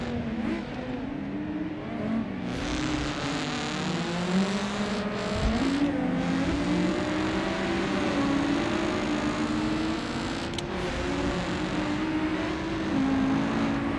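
Several race cars in the BeamNG.drive driving game rev and drone steadily on the East Coast map, their engine pitches rising and falling as they pass. The sound is continuous and moderately loud, with no talking.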